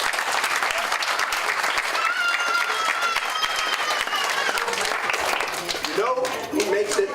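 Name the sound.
applause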